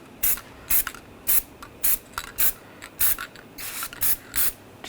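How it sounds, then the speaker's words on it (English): Anti-seize sprays onto the hub surface of a 2014–2018 GMC Sierra 1500 truck in about ten short, sharp hissing bursts, close and quiet, with small mechanical clicks between them and no voices. "Just going to spray a little anti-seize on the hub surface."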